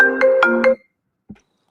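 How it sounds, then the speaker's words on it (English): A phone ringtone goes off, playing a short bright repeating melody of three chimes for under a second, then stops, followed by a faint brief thump. "Won't be a teenager if your phone didn't go off."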